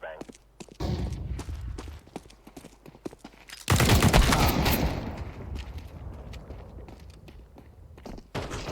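A flashbang grenade goes off in Counter-Strike, a loud broadband burst about midway that rings and fades slowly, preceded by scattered game footsteps and clicks.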